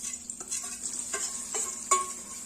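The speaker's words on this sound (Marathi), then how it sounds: "यामध्ये आपण हे पनीरचे तुकडे तळून घेणार आहोत" Paneer pieces frying in oil in a wok, a steady close sizzle with a few brief stirring scrapes and clinks, no talk.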